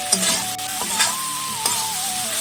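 Soybean chunks and potato being stir-fried with spices in a pan, a soft sizzle under repeated scraping stirs, with a spatula knocking against the pan a few times.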